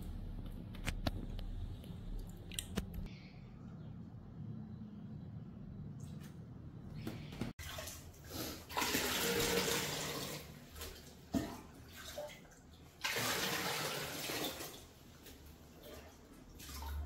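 Water splashes and pours while a dirty home aquarium is being cleaned, irregular sloshing bursts rising and falling, loudest in the second half, with faint background noise and no clear talk.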